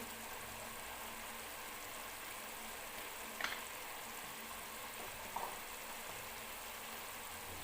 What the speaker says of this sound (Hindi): अब हम इस मसाले को भून लेंगे